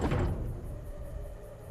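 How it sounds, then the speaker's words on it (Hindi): A church door bursts open with a heavy bang in a horror story scene, a loud low thud at the start trailing off into a dark, rumbling reverberant tail with no talking. "अचानक चर्च का दरवाजा धड़ाम की आवाज से अपने आप खुल गया"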